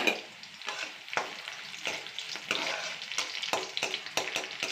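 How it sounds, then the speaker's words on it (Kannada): Onion and dried red chillies frying in oil in a pan for pumpkin palya, with a soft crackling sizzle broken by repeated spoon scrapes and stirring knocks, close and fairly quiet. "ಕುಂಬಳಕಾಯಿ ಪಲ್ಯಗೆ ಒಣಮೆಣಸಿನ್ಕಾಯಿ ಹಾಕ್ಕೊತಾ ಇದ್ದೀನಿ."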